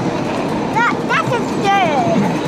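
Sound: train ride

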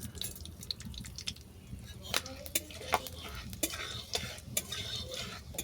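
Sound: panch phoron spices frying in hot oil

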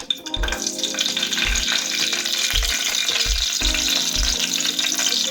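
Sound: green chillies added to hot oil with peanuts and cumin, frying

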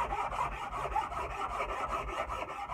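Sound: Nicholson file rasping a wooden axe handle

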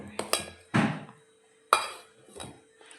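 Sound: mixing dosa batter with salt in a bowl

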